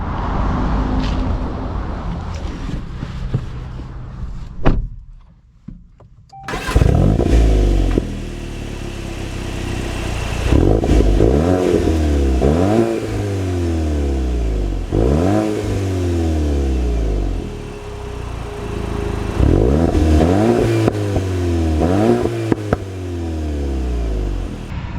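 A new manual VW Golf GTI engine starts with a sharp burst and then revs repeatedly, each rise and fall of the engine note loud and close, with idle between the revs.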